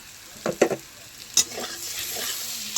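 Pointed gourd frying in ghee being stirred in a pan: a few sharp utensil knocks and scrapes over a soft sizzle, with no talking.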